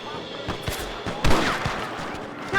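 Gunfire in Red Dead Redemption during a rush on guards, sharp shots and a fusillade over busy game background with a louder burst midway, mixed under other noise.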